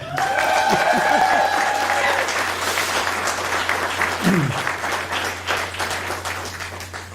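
Sustained, dense applause from an audience honouring a graduate at the Collegium Medicum UMK Class of 2022 graduation ceremony, steady and loud throughout over a low hum, gradually easing toward the end.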